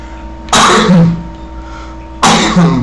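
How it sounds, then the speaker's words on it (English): Two harsh, close coughs, a longer one followed by a short break and then a second, loud and alone over a faint background hum. "I'm taking care of this coughing of mine"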